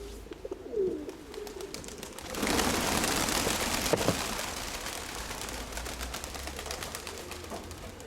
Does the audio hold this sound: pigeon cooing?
yes